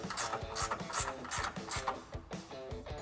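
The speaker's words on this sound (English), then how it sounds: "I'm going to take my wrench here, my 13mm ratcheting wrench, and I'm going to tighten this one up in the back." A 13mm ratcheting wrench tightens a bolt on a 2021-2023 Ford Bronco rocker guard with steps, giving a quiet, steady run of rhythmic ratchet clicks and rasping close by.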